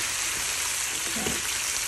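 Steady, close sizzling of adobo frying with garlic in a pan, a continuous crackling hiss with no talking.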